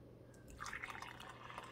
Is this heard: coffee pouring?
yes